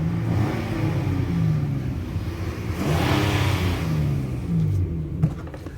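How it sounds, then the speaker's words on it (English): A 2019 Nissan NV 2500 high-roof van with a V6 engine accelerating, with its revs climbing, easing, then rising again, heard loud and close from inside the cab and without talk. "So I'm gonna give it a little acceleration"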